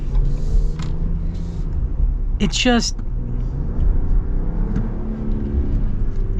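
From inside the cabin, the 2025 Ram Hurricane High Output engine gives a steady low rumble under near-constant talk from a person in the vehicle, with a brief sharp interjection midway.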